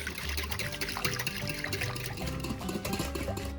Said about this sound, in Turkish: Ve tüm malzemeleri şöyle bir çırpıyoruz.